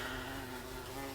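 A bumblebee buzzes steadily and close, a continuous droning hum with no pauses, heard on its own without any talking.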